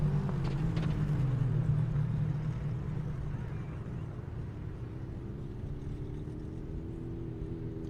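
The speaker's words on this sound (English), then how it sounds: "Car still sounds amazing" A drag racing car on a half-mile airport strip at the Indy Airstrip Attack event, engine rumbling steadily at a low idle with a rising tone, close by and continuous throughout.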